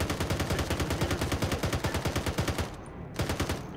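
Rapid automatic gunfire in Arma 3, a steady fast burst of about twenty evenly spaced shots, then a short pause and a few more rounds, moderately loud with no talk over it.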